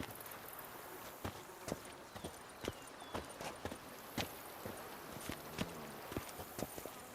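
Horse hooves in a video game, The Witcher 3: Wild Hunt, clip-clop in an uneven galloping rhythm over a steady background hiss, each hoofbeat sharp and fairly close.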